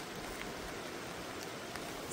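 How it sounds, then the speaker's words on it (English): Steady rain falls outdoors on a cold, wet day in the north, a constant even hiss with scattered faint drops and no voices. "I was hoping it wouldn't be raining this much."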